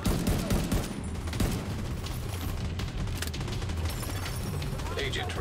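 Dense bursts of gunfire from a shooter game, The Division 2, crackling rapid shots layered continuously over a loud, busy battle din with no pause.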